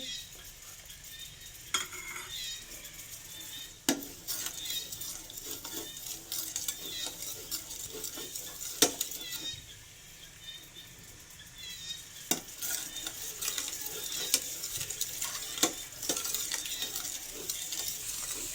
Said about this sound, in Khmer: ជាដំបូងយើងធ្វើការដាក់ខ្ទិះដើមចូលតិចសិនទៅយើង កូរវាក្តៅសិន